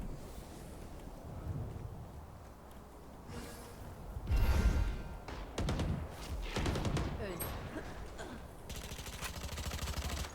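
Rapid gunfire from a Valorant match, with several sharp bursts and clustered shots over about ten seconds, mixed with game effects and faint breathy voice chat in the background.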